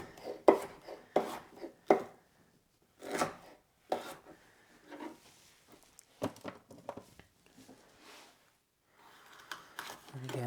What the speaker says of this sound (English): just cut a slice off and turn that into sticks